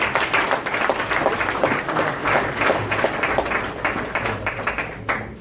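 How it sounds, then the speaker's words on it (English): An audience at a boxing association event gives a sustained round of applause in memory of fallen boxers, dense steady clapping from a crowd that carries on for several seconds before starting to fade at the end. "I'd ask you for a round of applause in their memory."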